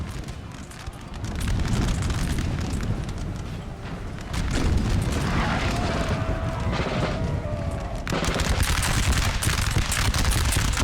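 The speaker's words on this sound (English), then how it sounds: "looks like we got the French artillery targeting the Prussian artillery" French artillery in the Napoleon Total War video game fires on Prussian guns, heard as a continuous, rumbling battlefield din of cannon booms and crackling musketry, loud and sustained with fresh surges of fire.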